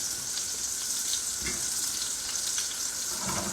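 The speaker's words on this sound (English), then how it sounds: "Basting also helps with the browning of the meat." A ribeye steak fries in a pan while being basted, giving a loud, continuous close sizzle with faint spoon and pan sounds mixed in, no talk.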